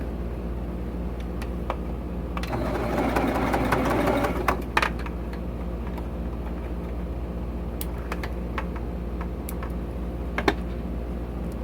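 A sewing machine stitches a quilt seam in a short rapid mechanical burst of needle chatter, then stops, leaving a steady low hum with occasional small clicks and taps.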